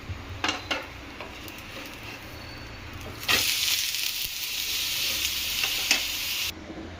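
A jowar flour uttapam fries in ghee on a pan after being flipped: a couple of utensil clicks, then a loud, steady sizzle rising sharply and holding for several seconds before dropping off abruptly.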